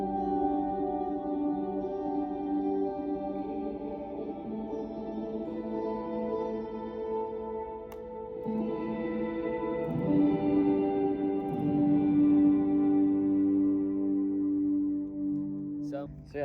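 Sustained electric guitar chords ring out drenched in reverb and echo, notes blooming and trailing off into a wide, washy tail.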